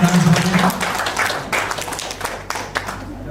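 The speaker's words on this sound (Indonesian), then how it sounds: "kita mohon tepuk tangannya buat para pemenang semuanya" Audience applause for the winners at an alumni association board inauguration ceremony, a burst of loud clapping from a crowd that stays steady for a few seconds and then thins out.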